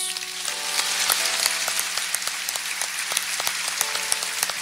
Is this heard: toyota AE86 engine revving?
no